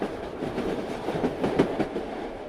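A train rolling along at night, a low steady rumble with faint rhythmic clatter of wheels on the rails, heard as a sound effect in a Bengali horror cartoon.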